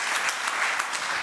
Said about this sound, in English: A warm applause, I think, is on order.